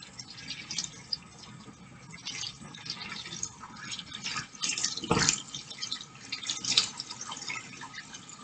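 Warm water runs steadily from a tap as hands are rinsed under it, a soft continuous splashing with brief louder gushes partway through.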